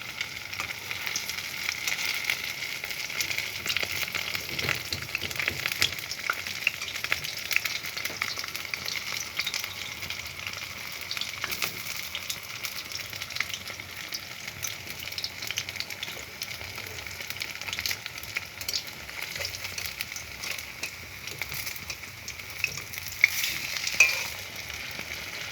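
Malabar spinach chops fry in oil in a pan, a soft, steady bubbling sizzle with crackling pops throughout, moderately quiet and close with no talking.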